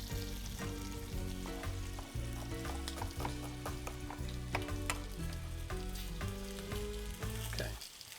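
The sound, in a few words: onion and garlic frying in a pan for shishito peppers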